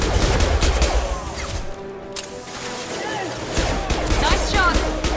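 Sustained gunfire rattles through a combat scene in Mass Effect Legendary Edition on PS5, dense overlapping bursts and impacts with a brief lull midway, while voices talk over the noise.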